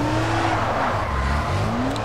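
A police car driving in the video game Dying Light, a steady close engine hum with tire noise rising and falling over about two seconds, no voices.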